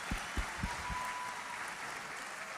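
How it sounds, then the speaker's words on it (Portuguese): A church congregation applauds their pastor's birthday at the end of a service, brief claps bunched near the start, then fading into the soft murmur of the room. "uma salva de palmas ao nosso pastor Tanner aí"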